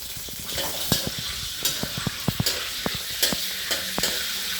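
Cashews and almonds frying in two spoonfuls of ghee while being stirred: a steady, close sizzle with repeated sharp spoon scrapes and taps against the pan at an uneven rhythm.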